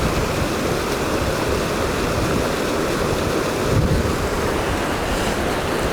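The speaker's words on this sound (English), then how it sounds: "it's a bit windy" Strong wind buffets the microphone in a constant low rumble, mixed with the wash of a rushing waterfall nearby.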